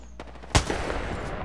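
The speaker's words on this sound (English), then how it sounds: "Opening fire" Gunfire in Apex Legends: a single sharp shot bursts out loud and close, followed by a dense, sustained wash of rapid fire and game noise.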